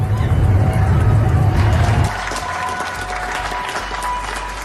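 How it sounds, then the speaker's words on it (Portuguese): Crowd applause and cheering for health workers ring out, loud and dense at first, then fade to lighter scattered clapping under murmuring. "Profissionais de saúde são aplaudidos pelo mundo."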